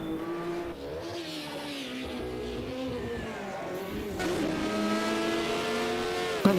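Mercedes 198 race car engine at a European Hill Climb Championship event, revving hard and steady with gear-change pitch sweeps, moderately close and loud, with faint commentary underneath.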